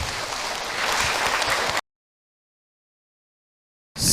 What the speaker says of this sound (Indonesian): Oke, tepuk tangan buat Ibu Neni.